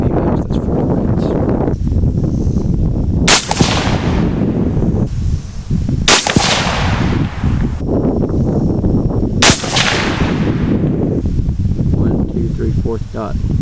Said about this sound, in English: with these last 3 bullets, I'm going to be shooting it into molding clay